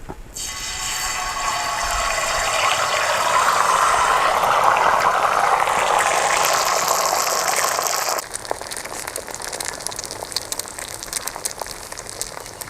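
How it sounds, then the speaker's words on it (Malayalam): Quail egg omelette frying in a generous pour of oil, village-style cooking outdoors, with a loud, dense hiss that swells and holds for several seconds and then drops abruptly to a quieter steady sizzle. "അപ്പോൾ നമുക്ക് മുട്ടയൊന്ന് വറുത്തെടുക്കാം."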